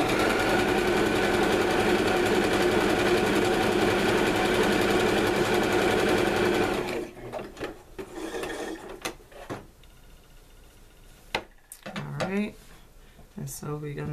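A sewing machine whirs loudly and steadily as quilt strips are sewn together, then stops about halfway, leaving quieter handling clicks and rustles of fabric.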